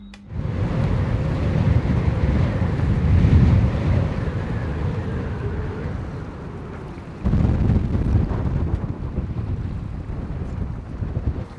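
Strong wind buffets a sailboat at anchor in winter Alaska, with waves slapping around the hull; the gusty roar is continuous and loud, dipping briefly before surging again.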